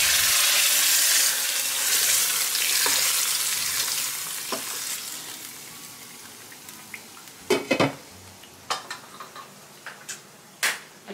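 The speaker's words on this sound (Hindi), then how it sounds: "सो ये घी गर्म हो चुका है, सबसे पहले मैंने डाला है मेथी दाना, इसे थोड़ा सा स्प्लैटर होने दूंगी" Fenugreek seeds, whole red chilli and chopped garlic sizzle and splatter in hot ghee, a steady close frying hiss that fades, then sharp popping crackles toward the end.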